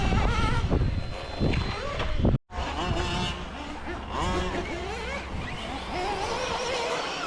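A Team Corally Asuga XLR RC buggy races around a track, its electric motor whining up and down with the throttle over a continuous hiss, cutting out briefly mid-run, with a person talking nearby.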